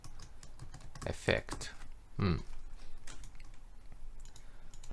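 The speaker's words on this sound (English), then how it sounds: "let's type some text here" Typing on a computer keyboard produces a run of close, clicking keystrokes in uneven bursts, with someone speaking briefly over them.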